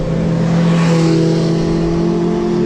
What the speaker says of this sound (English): noisy motorbikes